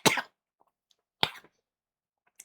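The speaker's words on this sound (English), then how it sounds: "you surprised me so much that I fucking started coughing" A man coughs in two sharp, loud bursts about a second apart, close to the mic, with near silence between them.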